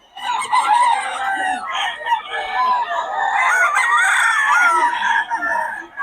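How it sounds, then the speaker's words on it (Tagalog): Many chickens and roosters at a bird market in Bocaue, a loud, dense, overlapping chorus of crowing and clucking that carries on steadily throughout. "Daming manok, no?"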